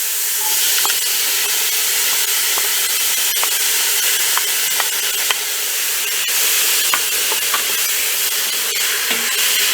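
Onions and tomatoes cooking in a pot for sopa de albondigas, giving a loud, steady sizzling hiss with occasional faint clicks of a utensil throughout.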